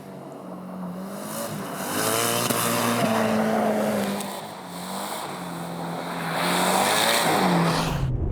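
A Subaru WRX STI drifts on ice, its engine note loud and close as it rises and falls through repeated throttle surges, with a rough, hissing tire and ice noise underneath.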